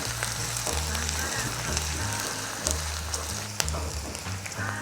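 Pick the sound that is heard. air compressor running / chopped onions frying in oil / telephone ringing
chopped onions frying in oil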